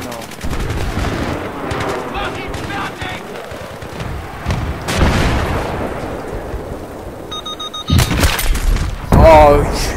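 Battlefield 3 combat with a tank firing its main gun: heavy booming shots and bursts of gunfire, including a loud blast near the end, under people talking.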